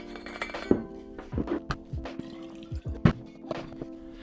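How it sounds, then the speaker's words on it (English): Water poured into a LARQ filtered water bottle, heard as a series of close clinks, knocks and splashy drips in short irregular bursts rather than a smooth continuous pour. "Let's put some water in."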